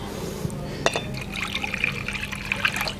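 Water pours into a container of cracked almonds to soak them, a close, steady splashing trickle that runs the whole time with small bright spatters and no speech.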